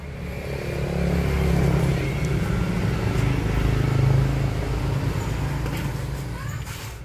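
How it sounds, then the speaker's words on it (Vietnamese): A small Austin 020 chainsaw, one of a batch of budget home-use saws, starts and runs during a test, its engine holding a steady, fairly loud drone for several seconds. "Bây giờ mình sẽ nổ máy và test cho các bạn xem nha."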